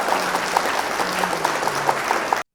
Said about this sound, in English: I gotta give her a clap for speaking up